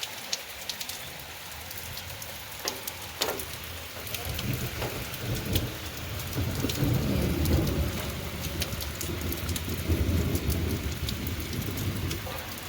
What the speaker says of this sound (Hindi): सुबह से ही बारिश का मौसम हो रहा था और अब हो रही है बारिश।